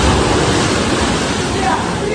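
Ocean waves wash up on a Pondicherry beach where locals play in the big surf, a dense, continuous roar of breaking water close by with no gaps.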